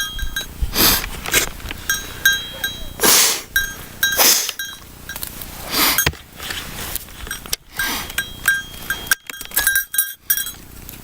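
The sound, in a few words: goats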